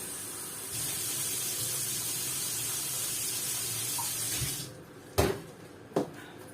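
Water runs steadily from a tap into a container for several seconds as a broad hiss, then stops, followed by a couple of brief clunks.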